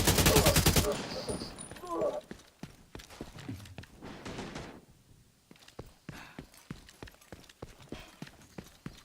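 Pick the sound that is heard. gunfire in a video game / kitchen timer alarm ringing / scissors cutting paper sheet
gunfire in a video game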